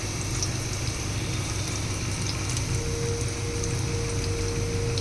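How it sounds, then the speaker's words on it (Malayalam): Garlic dropped into hot oil for a quinoa pulao sizzles in a steady, dense crackle that holds evenly close by throughout, with no talk over it. "കുറച്ച് എണ്ണ ഒഴിച്ച് വെച്ചിട്ടുണ്ട്. അതിലേക്ക് നമുക്ക് കുറച്ച് വെളുത്തുള്ളി ഇടാം."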